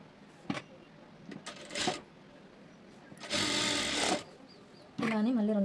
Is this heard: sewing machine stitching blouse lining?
yes